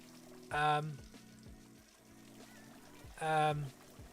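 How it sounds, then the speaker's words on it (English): Liquid pours from a brewing tap in the Brewmaster video game, two short splashing gushes a few seconds apart over a steady low background hum. "we'll open our tap up"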